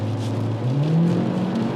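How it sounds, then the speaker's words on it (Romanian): Cupra Leon engine revving at high rpm while driving on a highway, a loud steady drone that rises slightly in pitch, close and alone with no talking. "motorul la turații înalte, chiar dacă se aude, nu e cel mai rafinat motor la turații înalte"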